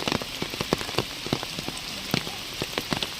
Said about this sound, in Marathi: पाऊस पडतो आहे